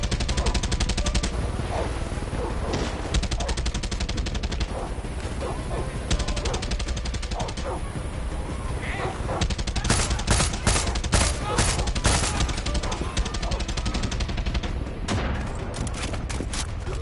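Dense, loud gunfire from a sniper and other weapons in the video game Far Cry 6, with rapid overlapping bursts and shots continuing without a break throughout.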